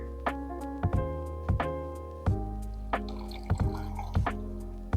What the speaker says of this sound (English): So right now I'm filling up just one of these collapsible camping sinks